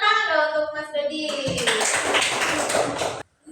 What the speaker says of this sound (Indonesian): Tepuk tangan dong untuk Mas Dodi